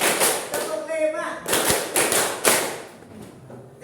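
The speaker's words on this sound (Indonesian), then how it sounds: "Tepuk 1, tepuk 2, tepuk 3, tepuk 4, tepuk 5." Hands clapping in a counted rhythm during a group exercise, several sharp claps spaced across the moment between spoken counting, fairly close and mixed with voices.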